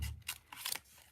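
Scissors snipping around the outline of a stamped paper image, a few quick close, quiet crisp cuts in a short burst.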